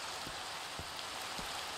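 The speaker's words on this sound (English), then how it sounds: "Oh, I hear the rain!" Steady hiss of rainfall in Minecraft, a dense even wash of falling drops that fills the background without letup, with a few soft low thumps repeating through it.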